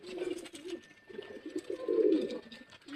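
Pigeons in a loft coo while eating grit, low throaty rolling coos repeating close by, with one louder burst near the middle.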